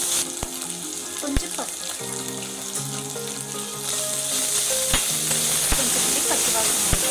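Onion, ginger-garlic paste and curry leaves fry in a pan with a steady, bright sizzle, broken by sharp spoon taps and clinks against the pan, and a voice briefly speaking over it.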